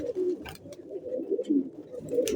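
Domestic pigeons coo in low, throaty, rolling calls, several birds overlapping close by, with a few soft rustles and flutters.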